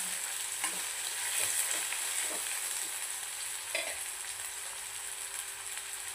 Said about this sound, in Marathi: तेलामध्ये कांदा टाकून छान असं लालसर होईपर्यंत फ्राय करून घ्यायचं आहे